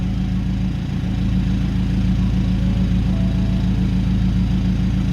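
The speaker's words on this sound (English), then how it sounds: "I'm going to start the vehicle up now" A BMW car engine idling: a steady, close, low rumbling hum with an even pulsing texture, holding constant throughout with no voices.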